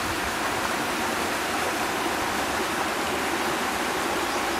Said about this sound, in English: Here we got the weir.